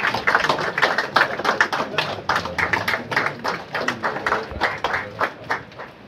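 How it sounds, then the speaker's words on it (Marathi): Audience clapping to welcome a guest at a retirement ceremony for a public works chief engineer in Nagpur, a dense run of sharp hand claps, fairly close and steady, with a faint voice underneath. "सर्वांना मी विनंती करतो की जोरात टाळ्या वाजवून दादांचे स्वागत करावे।"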